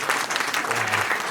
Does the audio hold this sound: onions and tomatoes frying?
no